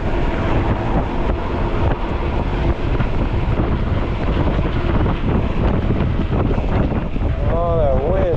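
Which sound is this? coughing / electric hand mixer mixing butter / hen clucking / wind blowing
wind blowing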